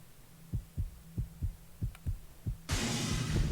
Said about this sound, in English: That heartbeat